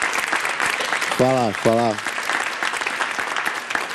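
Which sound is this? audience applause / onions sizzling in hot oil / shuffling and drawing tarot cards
audience applause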